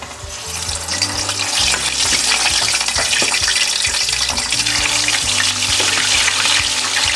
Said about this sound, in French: Maintenant, nous passons à la friture des plantains.